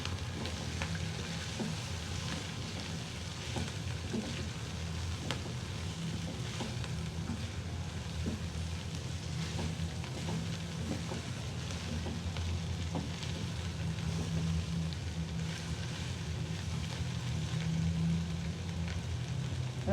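Chicken being stir-fried and tossed in a hot wok for restaurant-style chowmein, a steady loud sizzle running throughout with scraping and stirring clatter, no voices.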